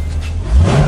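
A brand-new 2020 Chevrolet C8 Corvette V8 engine revs up quickly, a short loud surge of deep engine roar rising in pitch over less than a second, heard up close.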